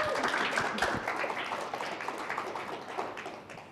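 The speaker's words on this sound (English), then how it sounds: "Big round of applause." Conference audience at a DrupalSouth talk in Hobart gives a steady round of applause, a dense wash of many hands clapping that slowly fades, with faint murmuring underneath.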